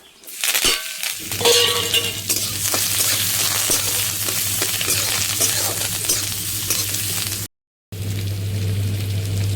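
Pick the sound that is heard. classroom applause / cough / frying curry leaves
frying curry leaves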